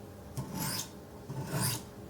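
A knife blade is drawn across Wicked Edge sharpening stones in two light, even strokes, each a soft rasping scrape heard up close with a short pause between.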